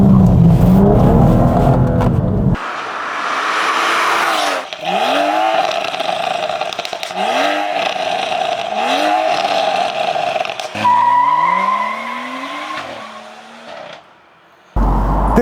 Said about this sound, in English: You just can't beat the sound of an N55.